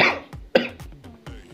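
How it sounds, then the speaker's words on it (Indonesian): Three sharp coughs from one person, close to the microphone, come in quick succession with short gaps, heard during commentary on a Mobile Legends game. "Sorry batuk."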